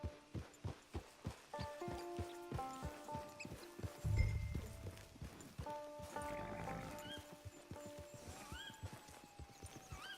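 Hooves clop in a steady walking rhythm, followed by a horse's whinny and snort, with soft game music in the background, from the video game Red Dead Redemption 2 Online.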